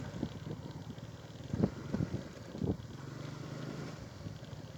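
A motorbike riding through Radhanagar, its engine a steady low drone mixed with wind rush, with a few brief louder bumps in the middle.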